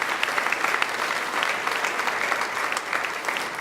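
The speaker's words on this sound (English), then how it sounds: "Please give all of those board members a round of applause as well." An awards show crowd claps continuously, steady applause at moderate volume without cheering.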